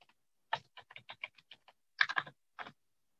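Someone types on a computer keyboard to sign in, producing a dozen or so crisp, close key clicks in irregular bursts with quiet gaps between them and no voices.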